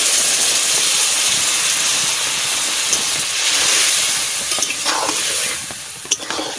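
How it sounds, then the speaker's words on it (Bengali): Water hits a hot pan of pointed gourd, giving a loud, sustained steaming hiss that rushes at first and then settles and fades, with a few faint clinks near the end. "জল ঢেলে দিচ্ছি, বেশি দেবো না"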